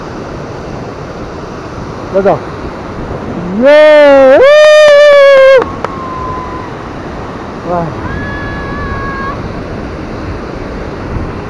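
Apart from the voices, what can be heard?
Rupse waterfall rushing water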